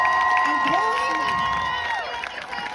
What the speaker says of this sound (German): Ein großer Applaus für die großartige Luisa Neubauer.